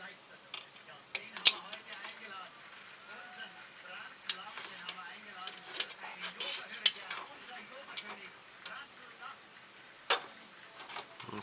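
Small plastic parts of a Hasegawa 1:72 MiG-29 Fulcrum model kit snipped off the sprue, close, quiet irregular clicks and sharp snaps at scattered intervals, with faint talk.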